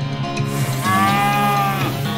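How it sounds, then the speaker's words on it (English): A cow in the West of Loathing video game lets out a single loud, drawn-out moo, rising over a steady game background. "It's a moo!"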